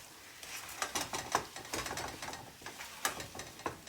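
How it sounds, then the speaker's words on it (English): A spoon stirs white and brown sugar into mashed sweet potatoes, giving faint, irregular scraping and clinking against the pot in quick repeated strokes, with no talking. "I'm going to stir that up"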